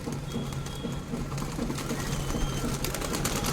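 Pigeons kept at home coo in a low, repeating rhythm close by, with a steady rustle and flutter of birds moving around them.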